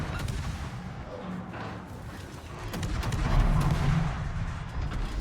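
Warship secondary guns fire in a World of Warships naval battle, a dense run of muffled booms and thuds rolling over continuous battle noise, with no talking.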